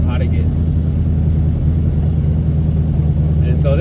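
A 1400hp turbo Corvette with a TH400 transmission cruises city streets, a loud, steady low engine rumble heard from close range with someone talking over it.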